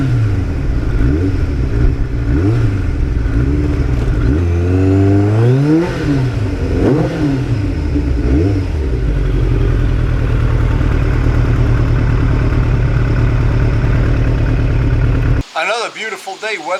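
A 1980s Kawasaki GPX750R motorcycle engine, loud and close, revving up and down in repeated swells, then settling into a steady idle before cutting to a brief different noise at the end.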